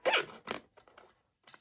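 Plastic zip ties ratcheting tight on a homemade ice fishing tip-up flag, a loud zipping burst followed by several shorter, softer pulls and a final brief zip after a pause, close by with no talking.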